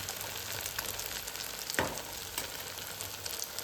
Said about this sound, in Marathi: मला असे खरपूस शाबू वडे आवडतात. असं ते असे तळून घ्यायचे